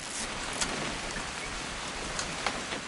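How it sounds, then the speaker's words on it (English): Steady rain hisses continuously, dense and even, with a few slightly louder drops standing out here and there. "It's gonna rain the whole weekend, isn't it?"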